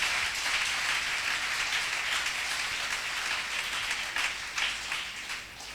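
A church congregation applauds in a loud, continuous wash of clapping that holds steady for several seconds, with no speech over it.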